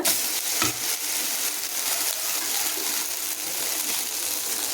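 Vegetable roti fries in a pan over medium heat, giving a steady, close hiss of oil that carries on evenly without pause.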